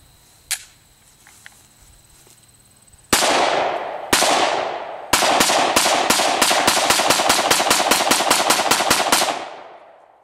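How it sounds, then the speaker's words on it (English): An FN 5.7 pistol fires twenty rounds: three spaced shots, then a fast, even string of loud, sharp reports with ringing echoes, close to the microphone and with no talking. "Now I'm going to run through 20 rounds relatively quickly with this thing"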